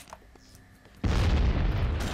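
In the game BloodRayne: Terminal Cut, a grenade goes off with a sudden heavy boom after a second of quiet, then a loud sustained rumble that keeps going to the end.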